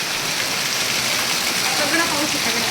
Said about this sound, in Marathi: पाऊस तर बघ केवढा आहे